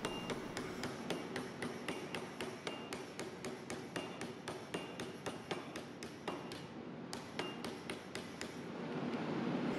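Rapid, evenly spaced metallic hammer blows on sheet metal ring out in a steady rhythm, a brief pause midway, then the tapping resumes.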